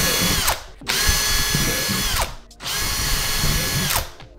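Power drill boring drainage holes through a plastic terrarium wall, two loud sustained whining bursts with a short pause between, then a third starting, close up and alone.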